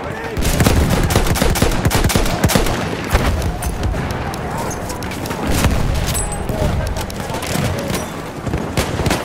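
Dense, continuous machine gun fire and scattered explosions in the Battlefield 1 video game, loud and sustained battle din filling the scene, with faint voices in the background.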